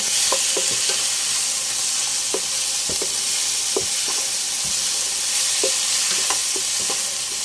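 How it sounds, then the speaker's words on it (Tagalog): Patola gourd and miswa noodles stirred in a pan, a loud continuous sizzle and hiss with a brisk run of spoon scrapes and taps close by, and no voices. "Siyempre, haluin natin"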